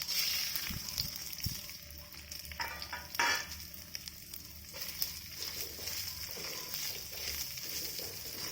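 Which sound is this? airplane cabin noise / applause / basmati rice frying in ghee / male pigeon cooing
basmati rice frying in ghee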